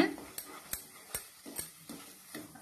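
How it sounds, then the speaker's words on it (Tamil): A spoon scrapes a pan in a steady rhythm as sweet potato halwa with sugar is stirred, with a sharp scraping stroke roughly every half second over a soft, quiet sizzle. "அடியில நல்லா பாத்திரத்துல ஒட்டாம இது மாதிரி நல்லா கிண்டிக்கிட்டே இருக்கணும்"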